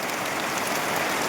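Steady rain pours down on a brick-and-concrete construction site where wall and lintel work goes on, a dense, even hiss of drops with no pauses and no voices.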